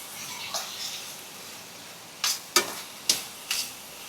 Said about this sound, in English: So we're going to go in with a 1/4 cup of brown sugar. If you have white sugar, you can go ahead and use that. And we're going to stir.